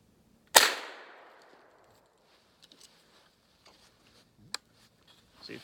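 A single sharp crack from a .22 Long Rifle rifle rings out and decays quickly, followed by quiet small clicks and handling noises and one further short snap.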